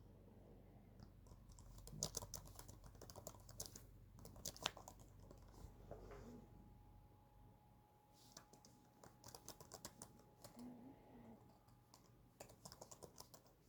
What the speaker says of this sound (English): I always have the worst time typing when I'm talking and doing this at the same time.